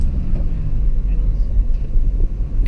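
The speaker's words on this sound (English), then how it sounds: "To move away slowly, I'll press the gas a little, hold the biting point for a couple of seconds," A car engine rumbles low and steady at close range while the car pulls away slowly on a narrow country road, the drone continuous for the whole stretch.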